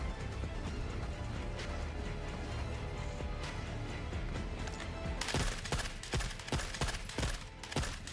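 Gunfire in the Forever Winter shooter, a steady background battle clatter that turns into close, sharp repeated shots and bursts in the last few seconds, loud and irregular.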